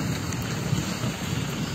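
Steady heavy rain pours down with low rumbling thunder beneath it, a continuous loud wash without speech.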